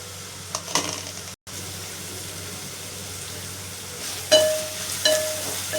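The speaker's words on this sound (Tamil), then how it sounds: "வெங்காயம் நல்லா வதங்கட்டும்." Onions frying in a pan for a Tamil urundai kulambu, a steady low sizzle with a short scrape or stir partway and a brighter hiss swelling near the end, with no talk.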